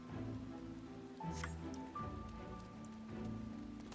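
Steady in-game rain in Final Fantasy XIV pattering on surfaces, mixed with sustained music tones and ambient game sounds, continuous and fairly loud throughout with no speech.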